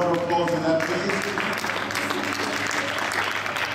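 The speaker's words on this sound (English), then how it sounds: "let's applaud both our presenters" Church congregation applauding presenters, clapping under music and some voices, moderately loud and sustained throughout.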